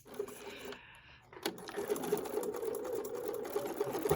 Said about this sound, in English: stitch forward on the line, removing the clips as I go